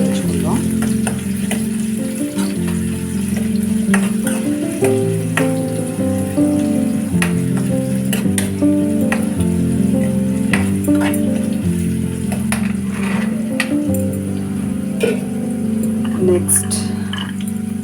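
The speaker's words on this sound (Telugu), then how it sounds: "అలా వేయించుకుందాం" Chopped onions fry in a pan for onion fried rice, giving a continuous close sizzle with occasional stirring clicks, all under a steady tonal background that runs throughout.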